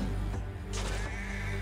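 A sheep struck by the player in Assassin's Creed Valhalla lets out a short, wavering bleat over steady game ambience.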